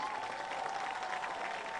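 A stadium crowd at a varsity football game on military night applauds for service members, a brief, distant even roar of clapping heard from afar.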